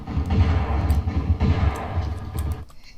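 Heavy booming gunfire from a shotgun aimed at thugs in the video game Tomb Raider 2, a loud continuous burst of blasts that cuts off abruptly.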